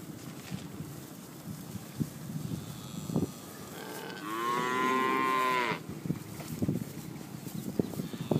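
A single long, loud moo from nearby Brangus cows, with scattered hoof clops and wind noise around it.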